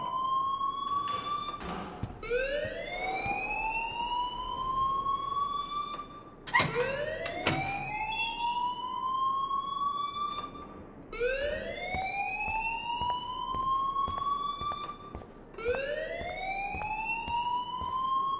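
A repeating electronic alarm from the video game Life is Strange, rising whoops that sweep upward again and again in a steady cycle, loud and continuous with no voices.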